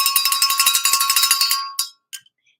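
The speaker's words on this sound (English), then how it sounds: "So we're gonna ring the bell, and then you can make your guess." A bell is rung rapidly in a steady run of bright metallic strikes for about a second and a half, then a few separate rings trail off into silence, close and loud with no talking.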